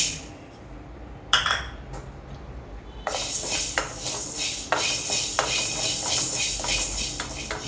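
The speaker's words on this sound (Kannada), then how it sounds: "ಮೆಣಸನ್ನು ಚೆನ್ನಾಗಿ ಹುರ್ಕೊಬೇಕು, ಅದ್ರ ಘಮ ಬರುತ್ತೆ ನಮಗೆ" A metal spoon stirring black pepper and spices as they dry-roast in a pan for sambar powder: an isolated clink, then repeated scraping and clinking strokes over a faint sizzle, close by.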